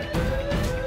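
A police siren in the burglary video game Einbrecher Simulator gives a steady, loud, sustained wailing tone that runs through the whole short stretch.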